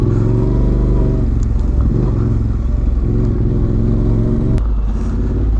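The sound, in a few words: ADV motorcycle riding on a rough road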